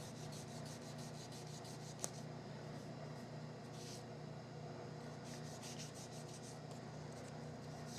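Hand sanding a cherry wood yarn bowl along the grain, a faint, continuous soft rasping rub with repeated back-and-forth strokes and one small tap, heard close and alone.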